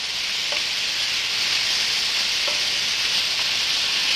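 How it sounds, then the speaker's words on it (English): Shrimp frying in a large skillet over medium-high heat give off a steady, loud, even sizzle with no break, and now and then a faint tap of them being turned. "This is why I'm using this larger skillet. And just keep turning them. Remember, medium-high heat. We don't want high heat on shrimp."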